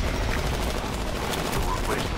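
Rapid automatic gunfire bursts in the video game Titanfall, dense and continuous over a rumbling background for a couple of seconds.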